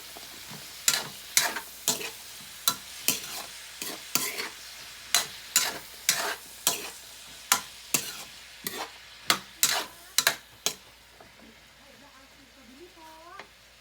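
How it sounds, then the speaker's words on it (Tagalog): Ground meat with bottle gourd and tomato is stirred in a pan, a regular series of sharp spoon scrapes and knocks about once a second over a faint sizzle, with a voice briefly speaking at the end. "Tapos halu-haluin natin."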